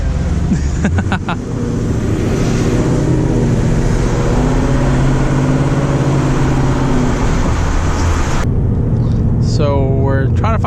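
A supercharged Ford Mustang GT engine drones loud and steady from inside the car, its low rumble holding under conversation before dropping away near the end.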